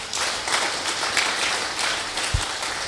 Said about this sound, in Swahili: Tunaweza appreciate Mungu kwa makofi.